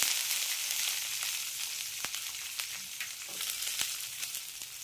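Garlic, ginger, green chilli and chopped onion sauté in hot oil in a pan for tomato chutney, giving a steady close sizzle with scattered sharp crackles and pops throughout, and no talking.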